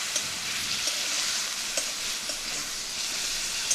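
Ginger, garlic and green chili paste fry in a pan while a spoon stirs, soft scrapes and taps at uneven intervals over a continuous moderate sizzle, no one speaking.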